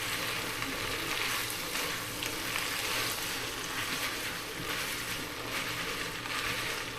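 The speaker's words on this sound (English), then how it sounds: "Keep moving the noodles around." Loud, steady sizzle of king prawn chow mein noodles being stir-fried over high heat, with continuous crackling and scraping as the noodles are kept moving in the pan, no voices.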